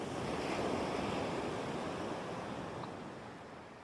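Flowing water of the Euphrates River gives a steady, broadband rushing wash. It stays loud and even, easing slightly toward the end, with no voices.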